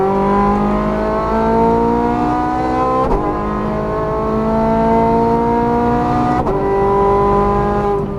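Ferrari F430 Scuderia at full throttle on a race track, its engine note climbing steadily in rising harmonics, broken by two quick gear shifts before pulling again, loud and close throughout.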